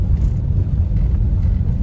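A tricycle engine rumbles steadily on a road at night, a low, continuous motor drone that stays close and fairly loud throughout, with no talk over it.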